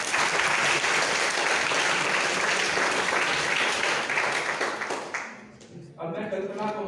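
Dense audience applause at a Scout Day informative session, steady and loud for about five seconds, then fading as a voice begins speaking over the last moments.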